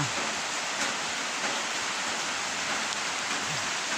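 Steady, dense monsoon rain pours down with a constant hiss, close and loud throughout, no voices.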